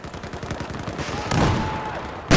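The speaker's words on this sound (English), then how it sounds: "What the fuck is shooting at me?" Rapid automatic gunfire in the video game Battlefield 4 during a multiplayer Rush match, a fast rattling stream of shots followed by a louder blast and a sharp final crack, close and dense.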